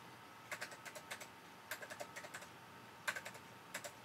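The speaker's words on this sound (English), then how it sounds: "Jeez, I sound busy with that keyboard." Quick bursts of typing on a computer keyboard at a Power Macintosh 7500, several short clusters of clicks separated by pauses, fairly quiet and close, with no talking.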